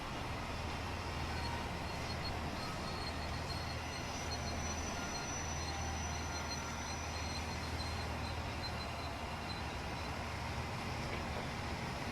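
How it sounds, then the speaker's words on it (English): A train rumbles past continuously in Train Simulator 2016 on the Bristol–Exeter line, with steady low wheel and engine roar and faint squealing, loud and unbroken throughout. "Oh, train over here."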